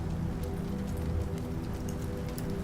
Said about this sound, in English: the raindrops patter softly on the glass, creating a soothing, rhythmic sound